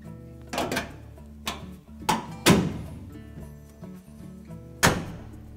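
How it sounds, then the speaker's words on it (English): A Whirlpool dryer door opened slightly after a thermistor repair: several hollow thunks and knocks, each a short, sharp hit, spaced irregularly with brief quiet gaps and no talking. "Just open the door slightly."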